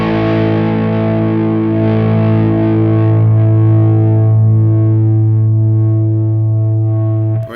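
Distorted electric guitar played through a Sonicake Matribox modelling a Mesa Boogie Mark IV lead channel, one sustained saturated chord ringing loud and steady for several seconds before being cut short.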